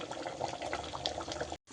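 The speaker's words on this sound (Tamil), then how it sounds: "இப்போ நிறையா தண்ணி ஊற்றிட்டு" Water poured from a vessel into a pot of boiling Tamil-style chicken curry, a steady splashing rush lasting over a second and a half before cutting off abruptly, close and fairly loud with no talk.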